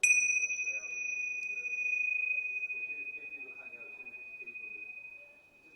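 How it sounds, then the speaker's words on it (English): A single bright meditation bell tone rings out and sustains, slowly fading over several seconds, with soft low murmuring beneath it. "allowing your breath to travel with the fading sound of the bell"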